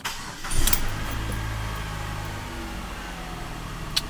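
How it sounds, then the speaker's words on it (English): A Chrysler PT Cruiser engine cranks briefly, catches, and settles into a steady idle nearby, with a small click near the end. "Now, when I start this car, that should go off."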